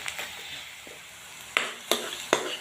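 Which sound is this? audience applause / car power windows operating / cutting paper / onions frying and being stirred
onions frying and being stirred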